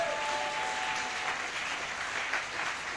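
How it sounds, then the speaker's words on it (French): Congregation in a church applauding God during a prayer service, a dense, steady wash of many hands clapping together, fairly close and sustained throughout, with a faint tonal voice or instrument at the start. "Est-ce qu'une fois encore applaudit notre Dieu pour ce qu'il fait au milieu de nous?"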